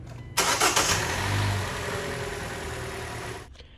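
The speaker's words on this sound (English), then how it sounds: "Now let's turn on the car, let this thing run for a bit." A Hyundai Elantra's engine cranks and catches, then settles into a steady idle, close by with no voices.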